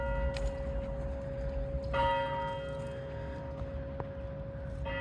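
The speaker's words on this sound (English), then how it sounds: "we got the clock tower chiming in the background." Clock tower bells chime outdoors beside a street, several clear ringing strikes layered over a steady hum and ambient background.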